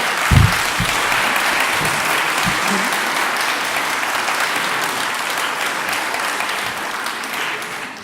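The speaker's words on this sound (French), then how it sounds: "je vous propose de les applaudir encore une fois" Sustained, loud audience applause for two young researchers after their presentations at a French academic session, dense steady clapping filling the whole stretch, with a few low thumps near the start.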